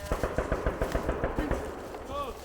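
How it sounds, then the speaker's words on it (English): Rapid automatic gunfire rings out during US Army trench assault training, a fast run of sharp, evenly spaced bursts outdoors, with voices shouting underneath near the end. "Strikers to open fire on the trench."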